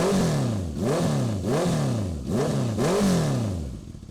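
A motorcycle fitted with a silencer revs repeatedly to about 4,000 rpm: five close, loud rising-and-falling blips in steady rhythm, alone without talk.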